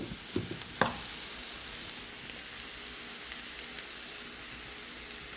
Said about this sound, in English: So I'm going to let this here saute until my onions and things get